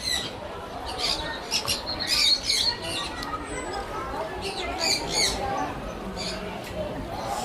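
Parrots squawk in bursts inside the Manila Ocean Park biodome, sharp high calls repeating over a busy indoor hum with people talking nearby.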